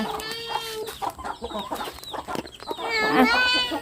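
Several domestic chickens cluck and squawk close by in repeated bursts, rising into a louder agitated run of calls near the end, with little else around them.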